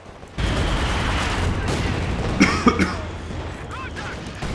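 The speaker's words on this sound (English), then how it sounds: "Grenade going off over here." Gunfire and explosions in the Company of Heroes 2 game during a 4v4 tournament match: a steady wash of battle noise with a few louder bursts midway, one of them a grenade going off.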